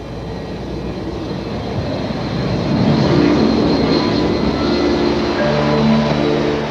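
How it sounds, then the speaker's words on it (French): An airplane taking off, a broad steady engine roar that swells toward the middle and holds loud, with some tonal whine near the end. "un avion s'envole."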